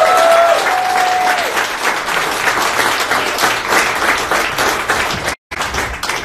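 A studio audience greets a singer with loud, sustained applause, a thick mass of clapping that continues steadily with a brief dropout near the end.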